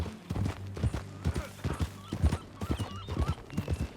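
Horse hooves clip-clop in a steady, even rhythm in Red Dead Redemption 2, each strike clear and fairly close, with a short whinny and faint game ambience beneath and no talk.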